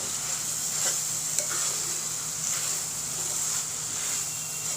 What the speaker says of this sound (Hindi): थोड़ा सा मिक्स कर लेते हैं अच्छी तरह से।